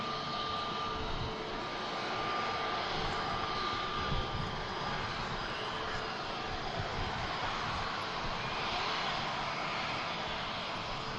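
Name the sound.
Jet2 Airbus A321neo jet at Manchester Airport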